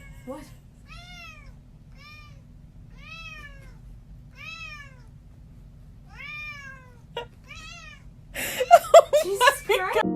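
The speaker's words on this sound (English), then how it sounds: "This cat was playing with a toy and it got stuck to its paw." A cat with a toy stuck to its paw lets out about seven clear, plaintive meows in a steady series, then a burst of human voices breaks in near the end.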